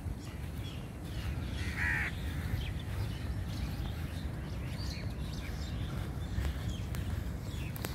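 A crow gives one brief, faint caw against a steady outdoor rumble, with a few soft bird chirps further off.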